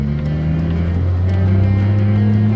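A 1973 Datsun 240Z engine pulls steadily through the revs, a loud, continuous in-car drone whose pitch climbs gradually with no break, heard alone without voices.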